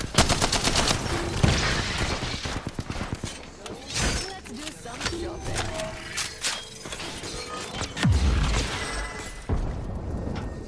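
Rapid gunfire in the video game Apex Legends, sharp bursts of automatic shots and scattered single cracks coming close and loud in clusters over about ten seconds, mixed with clanking game effects and excited talking over the action.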